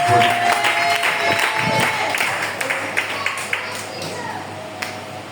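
A church congregation at a Sunday service applauding, a dense patter of many hands clapping through a reverberant hall, starting strong then thinning into scattered claps, with a faint murmur of voices underneath.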